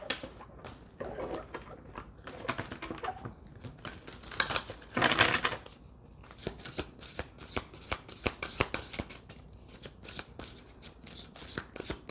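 Tarot cards are shuffled up close in repeated crisp riffles and slides, quiet bursts of papery flicking with short pauses between them and no speech.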